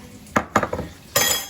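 A metal utensil clinks against a bowl while salt and pepper seasoning for skirt steak is stirred, making three or four sharp, close taps in quick succession.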